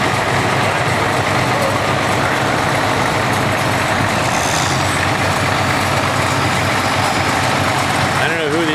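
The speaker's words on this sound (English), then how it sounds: "next we have an International 560 standard front wheel assist." An International 560 standard tractor with front wheel assist runs steadily at a tractor show, a loud, dense, continuous engine rumble heard close by with nothing breaking its drone.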